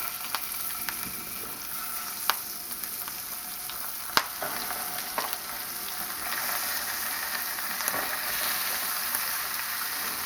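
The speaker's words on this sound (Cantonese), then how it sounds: "我哋而家就可以落呢一個牛尾啦" Oxtail sears in olive oil in a red-hot wok, giving a steady, moderately quiet sizzle with occasional sharp clicks and scrapes as pieces are turned, and no talking.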